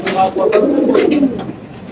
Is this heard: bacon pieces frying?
no